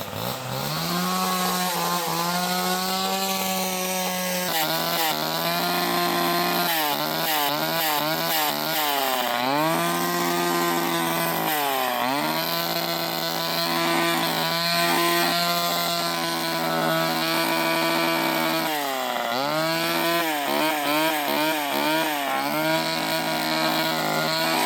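A Poulan 245A chainsaw runs loud and close for a long stretch, its two-stroke engine revving up and down repeatedly between a buzzing idle and high-pitched cutting bursts, with no talking.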